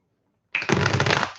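A short burst of tarot cards being riffled and shuffled, a close, crisp flutter lasting about a second after silence.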